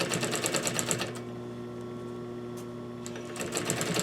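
A sewing machine stitches a slipcover for a Parson's chair, running in a steady rapid hum with a brief pause in the middle before the stitching resumes.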